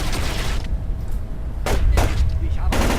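Gunfire in the Splinter Cell: Chaos Theory video game: several sharp broadband bursts, two close together near the middle and another toward the end, over a steady low rumble.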